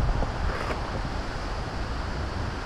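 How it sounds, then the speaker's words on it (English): Steady gusting wind in the woods of the White Mountains, New Hampshire, buffets the microphone in a low, rumbling roar, with a broad rushing hiss throughout and no voices. "Boy, did it get windy today."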